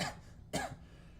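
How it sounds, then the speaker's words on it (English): A person coughs twice in quick succession, close and dry, with a short gap between the bursts against a faint quiet background. "Why am I coughing? I'm coughing on air."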